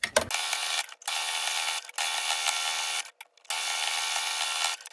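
A sewing machine stitches the seams of a handmade fabric tote bag, running in three steady mechanical bursts with short pauses between them, close and alone with no talking.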